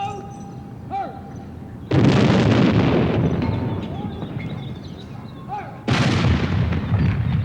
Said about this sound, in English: the Horse Artillery are to fire a salute in honour of a royal birthday.